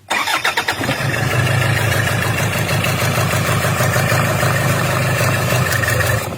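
A Toyota Fortuner diesel engine cranks and catches, then runs at a steady, loud idle with a rough, pulsing beat during an injector test for low power, with no talk.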